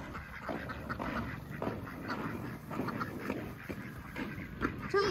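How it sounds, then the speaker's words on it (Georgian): Ducks or geese quack in a noisy flock, their calls overlapping continuously at moderate distance. "თუ იხვები თუ ბატები"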